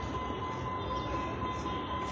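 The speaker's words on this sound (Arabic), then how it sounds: "قطار تالجون الأسباني" Spanish Talgo high-speed train in Egypt passing, a continuous steady rumbling roar with a faint high whine, fairly loud and unbroken.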